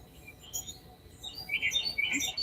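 Birds sing outdoors in the morning, several bright chirps and short tweets scattered over a soft background hush, moderately close and clear.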